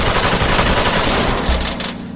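A SOCOM 16 rifle fitted with a muzzle brake firing in Ready or Not, a loud rapid string of sharp shots close by, ending in a brief fading echo.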